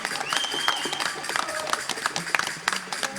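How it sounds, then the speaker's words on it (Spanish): Audience applause at a 40th-anniversary gala of the Centro Aragonés in Palma de Mallorca, with dense clapping that comes in bursts and a few raised voices and cheers mixed through it. "Cristina. Un aplauso."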